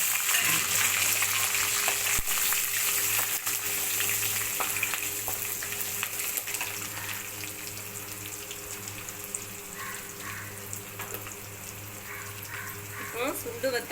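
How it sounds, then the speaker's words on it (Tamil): Dried turkey berries and garlic fry in hot oil for a spicy garlic vathal kuzhambu, giving a steady, close sizzle that runs the whole way through with a few faint clinks, gradually easing in loudness. "கொஞ்சமாக சுண்டு வத்தல் எடுத்துகிட்டு அதையும் நம்ம எண்ணெயில் போட்டு ஃப்ரை பண்ணிக்கணும்"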